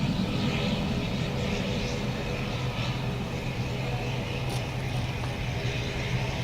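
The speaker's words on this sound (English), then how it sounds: "And now ATR to Gatwick." An ATR turboprop departs Dublin Airport for Gatwick, producing a steady, moderately loud engine drone with a low hum underneath that continues evenly throughout, with no talking.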